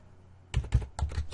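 Close, crisp keystrokes on a computer keyboard as a web address is typed, a quick burst of several clustered clicks that begins after a short quiet pause.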